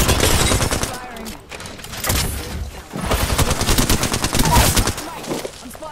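Rapid, loud automatic gunfire in Apex Legends, with sustained bursts of close shots and rattling volleys that briefly pause and resume, with voices mixed into the fight.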